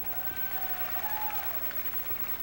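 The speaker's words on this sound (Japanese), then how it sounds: "もう一度大きな拍手をどうぞ。" Concert audience applauding a live rock performance, a steady broad wash of many hands clapping with crowd noise, loud and sustained throughout.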